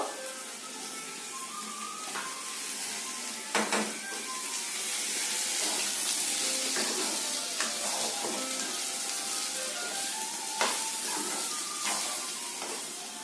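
Steady, loud sizzling of potatoes and onions frying in a hot pan with salt and turmeric, with occasional clinks and stirring noises throughout and no talking.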